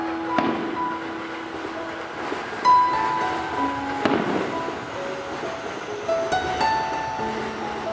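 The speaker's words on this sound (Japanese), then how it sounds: "花火が上がるって久しぶりやね。" Several fireworks pop and crackle at a distance across the scene at a summer festival at the Katsura Self-Defense Force camp in Kyoto, scattered bursts over a steady outdoor background hum.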